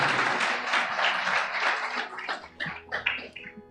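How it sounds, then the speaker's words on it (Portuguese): A church congregation applauds together, a dense, loud wash of clapping that thins after a couple of seconds into scattered individual claps. "Aplauda o Senhor Jesus."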